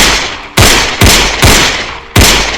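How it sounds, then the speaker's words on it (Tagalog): Rapid .45 caliber pistol shots, four loud, sharp blasts fired in quick succession at roughly half-second intervals, each with a booming decay and no voices. "sunod-sunod na putok sa katawan mismo ni Kagawad ng kalibre 45"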